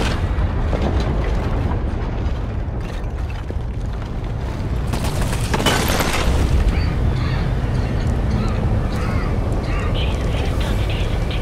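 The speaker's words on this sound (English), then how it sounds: "Oh, no. Kaboom." Explosion in the video game Wolfenstein: The New Order, a loud booming blast swelling midway through a dense, continuous roar of game noise, with people talking over it.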